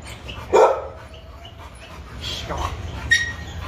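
A pit bull at a kennel gives a sharp, close bark, then pants and whimpers softly, with a further yip near the end.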